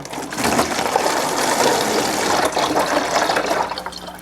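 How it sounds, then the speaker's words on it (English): Tap water poured into a plastic bottle for a homemade pet water dispenser, a continuous splashing, gurgling fill heard up close and loud, with no talking. "I'm going to fill it with water"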